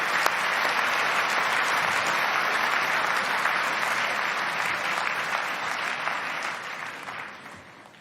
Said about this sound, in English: What about a round of applause as Richard comes forward?